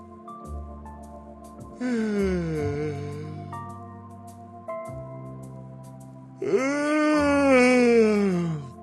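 A synthetic Plotagon character voice performs an exaggerated yawn, drawn-out moaning vocal sweeps that rise and fall, with two long groaning stretches separated by brief pauses, clear and close with no other sounds.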